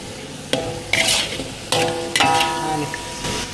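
Shrimp and kale stir-fried in a pan, with a spatula scraping and clattering against the metal in several sharp strokes over a steady sizzle, loud and close.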